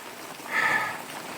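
Rain falling during a storm in Lake County, Michigan, drumming steadily on a canopy overhead, a soft continuous hiss that swells briefly in the middle before settling back to an even patter.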